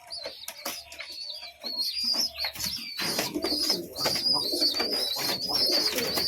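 Pigeon chicks squeaking and fluttering as they beg for food from a mother pigeon, a busy run of high peeping calls with wing flutters and soft coos close by.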